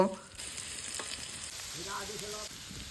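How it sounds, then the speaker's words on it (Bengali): Boiled potatoes fry in hot mustard oil in a wok, a steady close sizzle with a few stirring knocks and scrapes. "কড়াইয়ে সর্ষের তেল দিয়ে তাতে দিয়ে দেব সেদ্ধ করা আলু আলু লাল করে ভেজে তুলে নেব"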